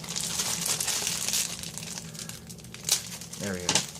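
Crinkly plastic packaging around a fidget spinner rustles and crackles in uneven bursts as scissors cut it open nearby, with a voice speaking over part of it.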